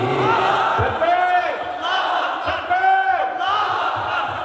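Crowd at an open-air Islamic religious gathering on a field in Kashimpur chants the takbir slogan in loud, drawn-out unison calls, two long swells over a constant crowd roar.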